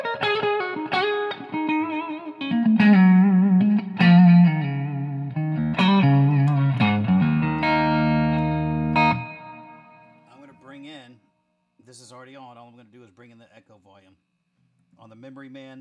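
Electric guitar played through a pedalboard with a Memory Man echo and chorus effect, chords and melodic notes ringing with shimmering modulation, then sparser, quieter notes with trailing echoes toward the end.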